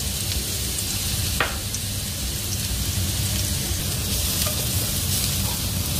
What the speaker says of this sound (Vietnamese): Tỏi vào phi cho nó thơm xíu